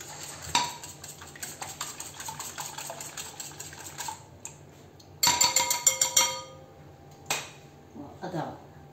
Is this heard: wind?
no